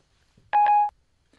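A phone gives off a short electronic tone, two quick pulses running into a steady beep lasting under half a second, clear and close, with faint background noise and no speech.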